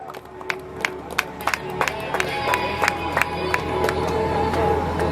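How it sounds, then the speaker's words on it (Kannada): Crowd applause and cheering at a national university-level volleyball tournament trophy presentation, a steady wash of clapping with sharp individual claps and shouts throughout, loud and close. "ಸೊ ಜೋರಾದ ಚಪ್ಪಾಳೆ ಬರಲಿ."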